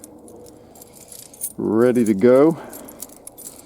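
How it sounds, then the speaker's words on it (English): A large bunch of keys, including a shed key, jangles and clinks throughout; a person speaks briefly partway through. "Sorry, I got about 1 million keys here."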